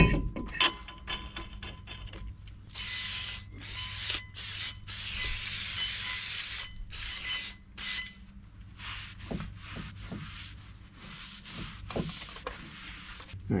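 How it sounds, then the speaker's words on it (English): Brake cleaner hisses from an aerosol can onto the rear brake parts of a 2000 Chevrolet Silverado 1500, in a series of long and short bursts broken by clicks and pauses. "So we're gonna go ahead and spray this down with some brake clean."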